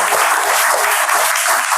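A quiz show audience applauding a contestant with loud, continuous clapping that stays dense and even throughout, with no speech over it.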